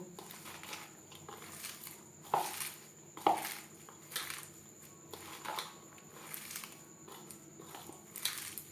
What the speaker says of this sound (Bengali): মশলার সব উপকরণ দিয়ে ও লবণ হলুদ দিয়ে সবজি বেশ ভালো করে মেখে নেব।